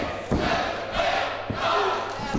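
A live crowd at a pro wrestling show in Australia cheers and roars after a chop, loud sustained noise in rolling waves with bursts of shouting.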